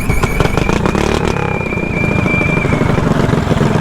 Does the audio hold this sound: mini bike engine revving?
yes